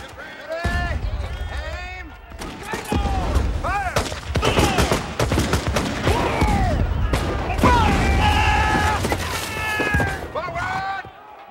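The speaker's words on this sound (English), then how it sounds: "Aim! Fire!" Rifle volley from a firing squad in a 1998 film, heard amid shouting voices and chaotic crowd commotion; sharp bangs mix with continuous loud talk and yelling throughout.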